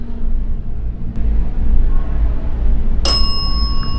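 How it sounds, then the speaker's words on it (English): A single bright ding from a small bell rings out near the end, cutting through a heavy low rumble during a paranormal investigation. "Can you ding the bell twice if it is you, James?"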